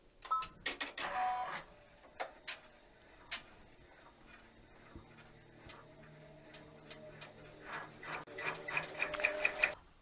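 An embroidery machine stitches free standing lace petals for a pansy earring and brooch, making quiet rhythmic mechanical ticking and clattering that grows busier toward the end.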